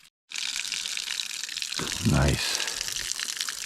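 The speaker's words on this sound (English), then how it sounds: "I'm gonna fill up my water bag and see how many of my containers I can fill up." Water from a stream or other source on a desert bikepacking trail near Crown King, Arizona, running into a water bag as a steady close rushing gush with a heavier gurgling burst partway through, and a brief word spoken over it.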